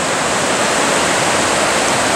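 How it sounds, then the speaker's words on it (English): A waterfall pours into a forest creek, a steady, loud, broadband rush of falling water that holds unbroken from start to finish with no other sounds. "The waterfall heading almost straight to our left, and then somehow it comes back and"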